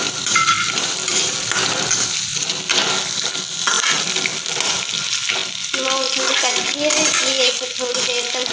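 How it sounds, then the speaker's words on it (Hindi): Peanuts roasting in a pan for poha, giving a steady frying and scraping noise with repeated stirring strokes at close range. No voices are heard over it. "हम इसमें डाल देंगे मूंगफली का दाना। थोड़ी देर इसको भूनेंगे।"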